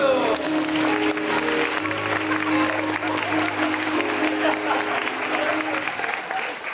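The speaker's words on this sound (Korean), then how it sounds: "박수!" Audience applause fills the hall at the closing-night curtain call of the musical Rachmaninoff, a dense, steady roar of many hands that continues throughout with faint sustained music beneath it.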